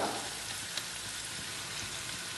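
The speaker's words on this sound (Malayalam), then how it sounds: "ആവശ്യമായ ഓയിൽ ഒഴിച്ചു കൊടുക്കാം സവാള ഇട്ട് കൊടുക്കാം ഇഞ്ചി ഇട്ട് കൊടുക്കാം" Onion and ginger frying in oil in a pan for an octopus coconut roast, a steady close hiss and sizzle with a faint tap near the start and no voices.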